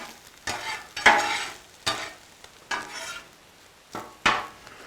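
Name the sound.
eggs being tossed and cooked on a Blackstone griddle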